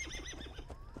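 A horse in Assassin's Creed Valhalla whinnies and snorts in a quick, faint burst of rising neighs with light hoof sounds beneath.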